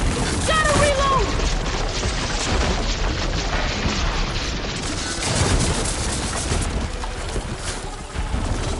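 Dense, continuous video-game gunfire with booming shots and rapid bursts, loud and sustained throughout, with shouted voices mixed in.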